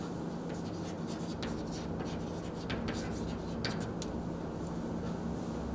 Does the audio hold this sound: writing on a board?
yes